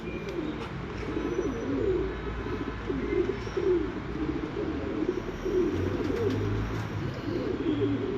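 Breeder pigeons cooing steadily in a loft, layered throaty coos from several birds close by, continuous and fairly loud with no talk.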